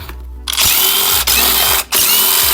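Power driver with a Torx bit whirring loudly at close range while loosening a bolt on a supercharged Audi 3.0T engine, in short bursts broken by brief pauses.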